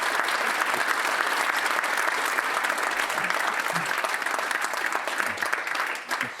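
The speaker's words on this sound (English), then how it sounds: "give the panel a warm round of applause and welcome" Sustained applause from a Manchester event audience welcoming a panel, steady dense clapping throughout with no talk over it, tapering slightly at the end.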